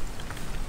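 Steady rain patters down on a campsite during a violent storm, a close, even hiss of drops with no pause or voices.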